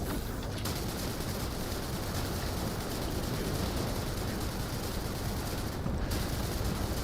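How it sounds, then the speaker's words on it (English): Dense, steady barrage of rocket fire and explosions in the video game The First Descendant, a loud unbroken roar of blasts with no gaps. "All you have to do is just shoot enough rockets, and all problems will be solved."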